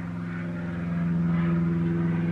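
Airplanes flying overhead near a residence in Thailand, a steady loud droning engine hum with a strong low tone that swells slightly over a couple of seconds, heard alone without talk.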